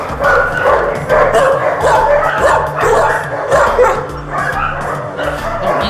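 Several dogs at an animal shelter bark and yip excitedly outdoors at close range, with whimpers mixed in, a continuous noisy chorus; a voice can be faintly heard underneath.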